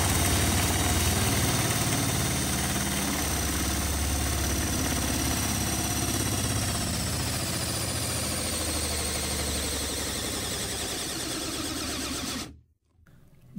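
A Hyper Tough installation driver spins at high speed under load in a torque test, a loud, steady motor whine and buzz held close for about twelve seconds before abruptly cutting out, with no talking.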